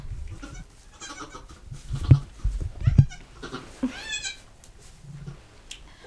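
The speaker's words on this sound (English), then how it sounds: "One goat and a little lamb." Goat kids and a newborn lamb on a farm give several short, wavering bleats with harmonic pitch bends, close and moderately loud, with quiet rustling and handling noise between the calls.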